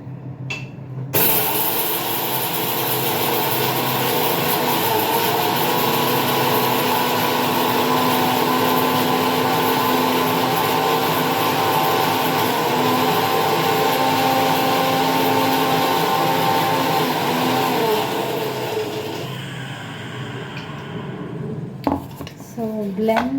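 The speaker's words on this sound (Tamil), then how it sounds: "இப்போ இதை பிளெண்ட் பண்ணிடலாம்." A blender grinding chopped tomatoes into paste for rasam rice, a loud, steady motor whine running continuously for about twenty seconds before cutting off, followed by brief clatter.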